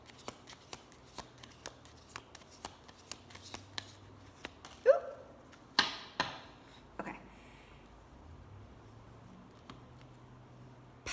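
Oracle cards are shuffled with soft, regular rhythmic taps and riffles, followed by a few sharper slaps and snaps as the deck is handled, all quiet and close.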